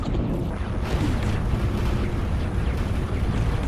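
A large ship explodes in space combat in the video game X4 Foundations, a deep sustained rumbling roar that fills the whole stretch without speech.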